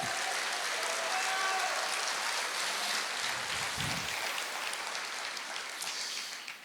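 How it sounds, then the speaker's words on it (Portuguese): Church congregation applauding during a Portuguese-language sermon, a steady dense wash of clapping that carries unbroken through the whole stretch and thins slightly near the end. "Você pode aplaudir o Senhor?"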